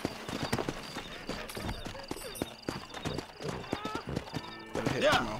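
A horse in Red Dead Redemption 2 clip-clops with irregular hoofbeats and lets out a whinny near the end, close and fairly loud, under overlapping game voices.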